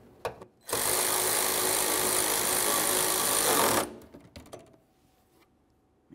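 Power tool tightening the three hood latch mounting bolts on a 2005-2010 Chevrolet Cobalt: one loud, steady whir of about three seconds, followed by faint clicks and handling noise.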